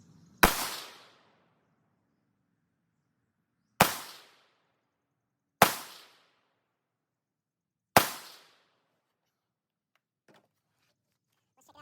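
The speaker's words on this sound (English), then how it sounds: "Put 5 more rounds down because I can't have a rifle that's not zeroed" Four sharp rifle shots, fired while zeroing a rifle fitted with a knockoff GBRS Hydra mount and an EoTech-style optic, crack out at irregular intervals, each a loud close report with a brief decaying tail, followed by quiet.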